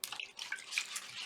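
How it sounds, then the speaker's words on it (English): A paint-covered stencil is lowered face down into water, producing soft splashes and light dripping and trickling sounds up close, with no voices. "now I'm putting my stencil face down in the water"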